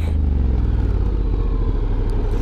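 A Honda X-ADV 750 scooter is ridden on a test ride, its engine droning loud and steady close to the microphone throughout.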